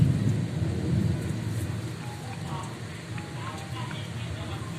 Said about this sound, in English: The rain is happening continuously